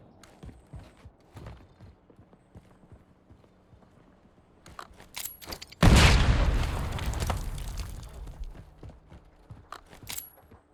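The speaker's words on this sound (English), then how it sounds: "Tossing impact grenade." A single heavy impact grenade explosion in Call of Duty Warzone bursts loud and close midway, with a long rumbling decay. Quieter game noise and faint footsteps come before it.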